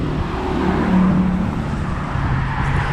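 Street traffic on a road in Mexico, a steady broadband roar of cars passing close by, with a low engine drone swelling around the middle and no talk.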